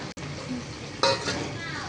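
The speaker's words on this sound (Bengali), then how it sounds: "তারপর এখানে আমি সামান্য পরিমাণ জল দিয়ে দিচ্ছি" Water poured into a curry of taro stolons and dried chepa fish frying in a pan in a village kitchen triggers a sudden surge of sizzling after a moment of stirring scrapes.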